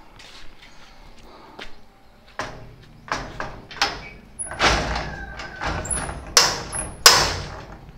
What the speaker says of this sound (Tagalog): Sirado mo natin ang pintuan.